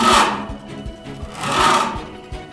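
A metal file scrapes across sheet metal in two long, rasping strokes, each swelling and then fading, with faint rhythmic knocks between them and no talking.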